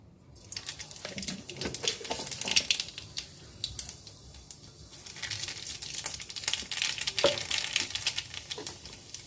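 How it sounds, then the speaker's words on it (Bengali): Nigella seeds crackle and sizzle in hot oil in a wok, giving a steady busy frying hiss with sharp pops scattered throughout, close and fairly quiet. "কড়াইতে তেল দিয়ে দিয়েছি, আমি কালি জিরা ফোড়ন দেবো।"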